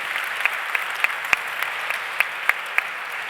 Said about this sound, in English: Let's give her a big kudos and applaud.